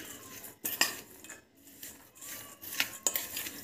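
Spiced dal with salt and chaat masala is stirred in a bowl with a metal spoon, giving several bursts of scraping and clinking against the sides with quiet pauses between.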